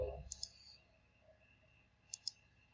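A computer mouse gives two quick pairs of faint, crisp clicks, about two seconds apart, over quiet room hum.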